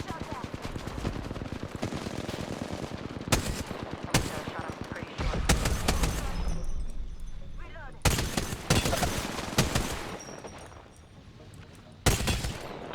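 Rapid automatic gunfire in Apex Legends, loud bursts of shots coming in clusters with short gaps, under occasional talk.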